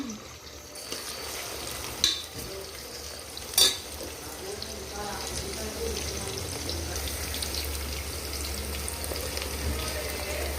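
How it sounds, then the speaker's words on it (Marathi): Chopped onion frying in oil in a pan for dhaba-style chicken curry gives a steady, soft sizzle throughout, with a couple of sharp clinks of a utensil early on. "कांदा फ्राय होतोय आता"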